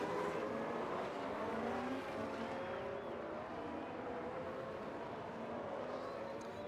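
Formula 1 race cars in the F1 Manager 23 game at the United States Grand Prix, several engines whining and shifting pitch together in a steady, dense roar with no one talking.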